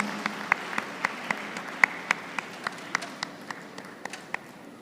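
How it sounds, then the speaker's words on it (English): Scattered, fairly sparse applause from a small university convocation audience, individual claps clearly distinct in an irregular rhythm, moderately loud in a roomy space. "Let's give her a huge round of applause."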